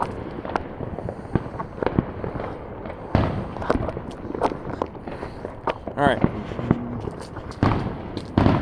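New Year's Eve fireworks and firecrackers pop in a scattered series of sharp bangs, mostly at moderate distance, while people talk and move nearby.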